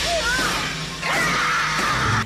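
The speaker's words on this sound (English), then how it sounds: "ambulance crashing." A loud crash and smashing impact of an ambulance, with a sweeping whoosh and rumble, set against dense, noisy background sound.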